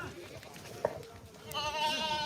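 Goats at an outdoor goat market bleat, a brief cry early on and a longer wavering bleat later, amid background voices and crowd chatter.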